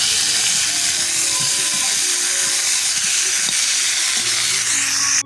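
Cumin and radhuni seeds hit very hot oil in a kadai, producing a loud, close, steady hissing sizzle that holds evenly for several seconds before cutting off abruptly.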